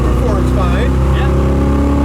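A 1979 Camaro Z28 muscle car drives along with its engine humming loud and steady from inside the cabin, a low continuous rumble with slight rises in pitch, while people talk over it.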